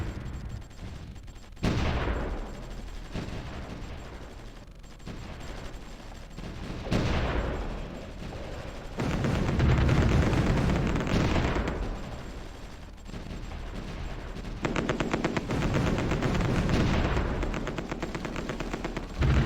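Gunfire and artillery from the strategy war game Supreme Ruler Ultimate, repeated bursts and booming volleys rolling through the whole stretch, loud and continuous with no talk over it.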